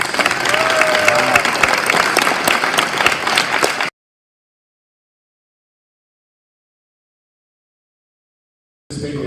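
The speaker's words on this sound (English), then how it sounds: "Can you give us a round of applause for our two-sport athletes?" An audience at a high school athletic awards ceremony claps for two-sport athletes. The applause is loud and dense, breaks off abruptly into silence, then returns at the end.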